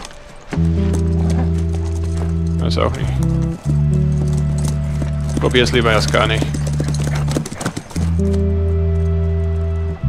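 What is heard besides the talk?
horse riding, hooves clip-clop, The Last of Us video game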